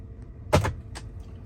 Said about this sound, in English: I can press the button and say, open the glove box.